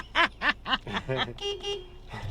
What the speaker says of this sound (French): Il y a un klaxon. Ouais, ridicule, mais il est là.